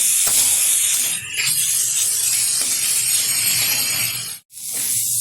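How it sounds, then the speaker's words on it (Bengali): Marinated chicken frying in a kadai (wok) on a stove, a loud, steady sizzling hiss that runs throughout and briefly cuts out near the end. "চিকেনটা ফ্রাই করার জন্য আমি ওভেনে কড়াই বসিয়ে দিয়ে দিচ্ছি কড়াইয়ের মধ্যে ম্যারিনেট করা চিকেন।"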